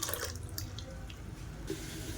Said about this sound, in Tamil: மிக்ஸி அலசிட்டு தண்ணியை சேர்த்துக்கலாம்.